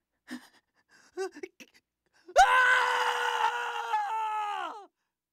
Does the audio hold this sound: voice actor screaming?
yes